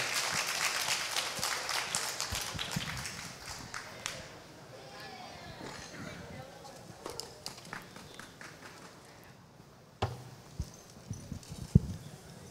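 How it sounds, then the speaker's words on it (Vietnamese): An audience applauds to welcome an army captain onto a stage at an armed forces day celebration, scattered clapping that fades into quieter room noise, with a few later sharp taps and some talk. "Chúng tôi xin quý vị một tràng pháo tay để đón chào đại úy Trần Đức Huynh."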